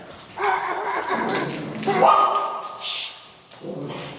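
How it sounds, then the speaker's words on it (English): A dog barks and yowls close by in a few drawn-out bursts, with brief pauses between them. "She barks out on reflection when we go down the stairs"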